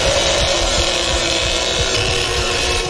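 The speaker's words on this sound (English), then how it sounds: "at least rev your chainsaw so it doesn't stall" A chainsaw in a video game revs with a rough, buzzing motor drone and rapid gritty pulses, loud and continuous throughout.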